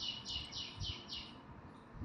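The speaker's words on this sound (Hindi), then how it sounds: "बाहर पक्षी बोल रहे हैं।" Birds chirping outside a home, faint repeated tweets over a low steady background hum, somewhat distant with no talk.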